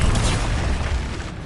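A Confringo fiery blast spell from Hogwarts Legacy, a single loud, close booming explosion that rumbles and decays briefly.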